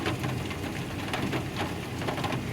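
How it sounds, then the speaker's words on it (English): Heavy rain pours down steadily on a flooded street, a dense continuous hiss of drops spattering on surfaces with no voices, filling the whole stretch at an even, close level. "It has not stopped raining all day"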